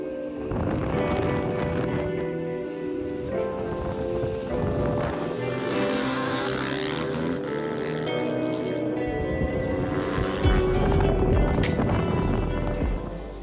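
A Honda CR250R two-stroke dirt bike races on a frozen lake, its engine revving and droning steadily and loudly throughout, with wind buffeting the microphone and the pitch rising and falling as the rider works through a corner.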